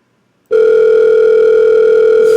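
A telephone dial tone starts abruptly after a brief silence and holds as a loud, steady, unbroken hum to the end.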